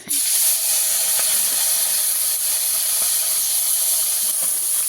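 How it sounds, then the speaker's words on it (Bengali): Small pond fish, mourala and puti, fry in hot oil in a pan on a stove, a loud, dense, continuous sizzling hiss that bursts in at the start and stays close and steady, with no speech over it. "তেল ভালো মতো গরম হয়ে গেছে, দিয়ে দেব মাছ।"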